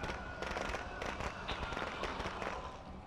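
Fireworks crackle and pop in the video game Heartland, a dense, continuous barrage of sharp bangs and rapid crackling that keeps going throughout at moderate loudness.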